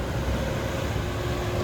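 The hybrid ferry M/V Wenatchee accelerates, a steady low engine and propulsion drone with a faint tonal hum, continuous and close, no voices.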